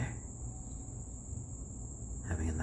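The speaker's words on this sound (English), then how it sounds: "just listening to the faint sound of the crickets and everything outside" Crickets chirp faintly outdoors at night in a steady, continuous high trill, heard from inside beside sleeping baby chicks.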